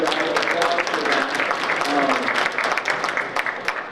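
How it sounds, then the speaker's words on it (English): Dense applause from the members at a spring meeting fills the room, a steady wash of many hands clapping at close range with some voices mixed in underneath. "So give yourselves a round of applause for"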